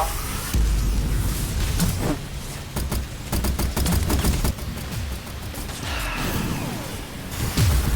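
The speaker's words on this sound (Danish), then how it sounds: "Ja, Frank, det var et heldigt skud, det der." Bursts of rapid gunfire in the online game Gear Up crackle in quick volleys, loud and close, with brief pauses between strings of shots.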